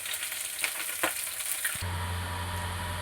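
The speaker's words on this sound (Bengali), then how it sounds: "এই কাঁটাটা ভাজা হয়ে গেলে করব।" Bhetki fish bones fry in a wok with a steady close sizzle and hiss, a few faint scrapes early on, then a louder, even crackle of hot oil continuing to the end.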